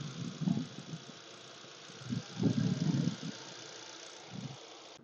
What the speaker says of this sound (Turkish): Araç şu an çalışık durumda ve sesini dinletmek için geldim